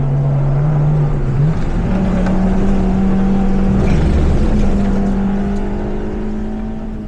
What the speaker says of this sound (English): it's my Club 1000 Yaris, a 26-year-old hatchback with less than 100 horsepower